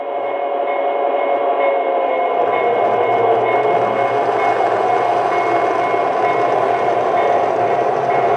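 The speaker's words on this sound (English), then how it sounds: "You can hear the engine revving up." A Lionel model train engine hums loudly and steadily, a motor whine building slightly as it runs on continuously without pause.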